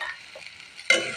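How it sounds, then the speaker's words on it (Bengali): Fried taki fish tipped into a pan of frying spices: a low background sizzle jumps to a sudden loud hiss and crackle near the end of the short clip. "এখন আমার সেই টাকি মাছটা ভাজা ছিল, আমি এটা অ্যাড করে দিলাম"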